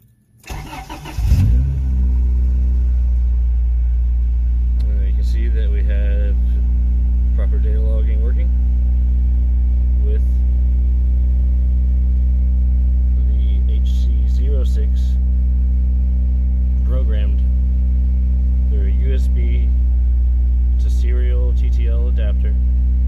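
A car engine cranks briefly and catches, then settles into a steady, loud idle that runs on continuously, with faint electronic beeps and clicks over it.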